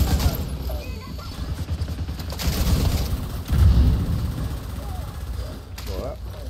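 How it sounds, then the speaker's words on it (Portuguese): Gunfire crackles under the voice-chat talk of squad players in The Division 2, with a heavier grenade blast booming out around the middle of the firefight before the shooting carries on. "Granada."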